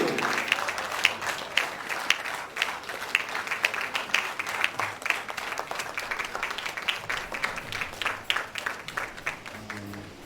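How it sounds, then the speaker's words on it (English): Warm audience applause welcoming the speaker at a faculty of dentistry conference, a steady spatter of many hands clapping throughout, fairly near and moderately loud, with no talk over it. "Ladies and gentlemen, with a very warm applause, please welcome the 14th Faculty Conference speaker, Dr. Cosmas Maduka,"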